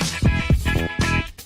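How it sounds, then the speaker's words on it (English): Music pushed too hard into a limiter, a short loud burst of dense, squashed sound with pumping beats and little dynamic range. "If you push too hard into the limiter, your music's not going to sound good."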